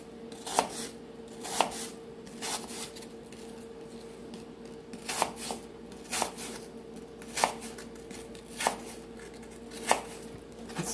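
Knife slicing apples on a cutting board for an apple crisp, a series of crisp, evenly spaced chops close by with a low steady hum underneath.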